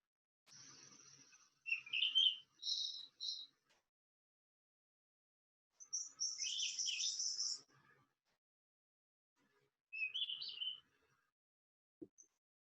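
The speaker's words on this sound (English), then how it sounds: "So this is another flycatcher." A flycatcher sings in a recording, bursts of high, thin chirping phrases separated by silent gaps, clear and fairly close, with a brief click near the end.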